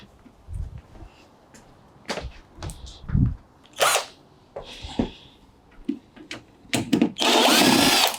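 A power drill whirs in short bursts, backing screws out of a Bosch washing machine, with clicks and small metallic clatters between spins and one longer burst near the end, close by.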